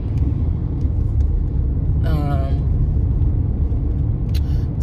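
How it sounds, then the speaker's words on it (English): Steady low engine rumble from a car driving on the road, continuous and close throughout, with a brief whine rising in the middle and faint clicks near the end. "I'm driving though."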